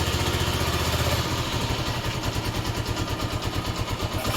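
A cold Honda XL motorcycle engine idles close by, loud and steady, with a rhythmic chugging pulse that settles into an even beat after the first second; no one speaks.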